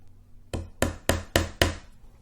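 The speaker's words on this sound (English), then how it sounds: "I'm going to hammer these in." Five sharp, evenly spaced hammer taps driving in push pins ring out in quick succession, close and crisp, each with a short resonant decay.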